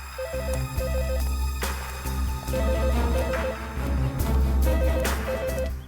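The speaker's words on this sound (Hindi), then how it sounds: "घंटी की आवाज तो यहीं से आ रही है।" A PCO payphone rings in repeated electronic bursts over a loud, busy background of music and commotion, the ringing pattern returning several times.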